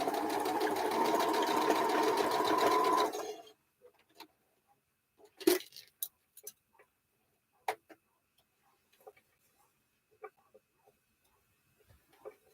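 A home sewing machine runs in one steady loud whirring stretch for about three seconds, then stops, leaving faint scattered clicks and taps.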